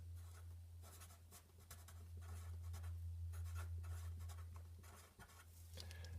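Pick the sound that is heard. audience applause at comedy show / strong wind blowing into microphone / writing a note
writing a note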